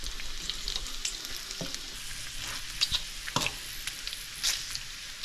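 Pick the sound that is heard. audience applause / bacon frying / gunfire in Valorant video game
bacon frying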